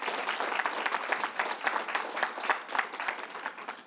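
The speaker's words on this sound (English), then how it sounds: "Give the whole group and the National Guard a round of applause for what you're doing here." A crowd at a government announcement in Syracuse claps in a sustained round of applause, a rapid textured patter of many hands, moderately loud and somewhat distant, with no voices over it.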